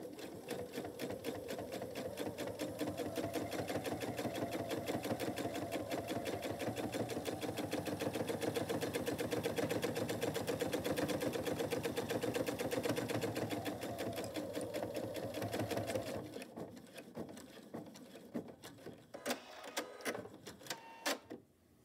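A sewing machine top stitching a fleece and flannel quilt runs steadily and loudly for about sixteen seconds with an even mechanical whir, then slows into a few separate clicks and stops.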